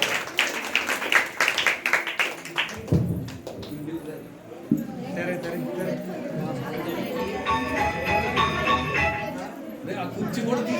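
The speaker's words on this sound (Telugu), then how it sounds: "క్లాప్స్ కొట్టండి గట్టిగా." An audience at a church Christmas Sunday school event claps to welcome children, with sharp claps at first giving way to a mix of clapping and lively crowd chatter, while voices talk throughout.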